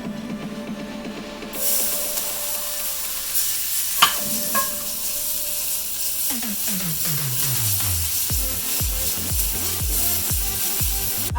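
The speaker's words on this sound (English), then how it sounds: "Now we're going to saute our garlic." Garlic sautéing in hot oil with cumin seeds for a black chickpea dish: a loud, steady sizzle bursts in after a quiet second and a half and carries on with occasional stirring clinks, close and without talk.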